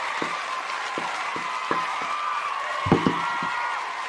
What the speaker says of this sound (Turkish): Özgür Bey'i alkışlıyoruz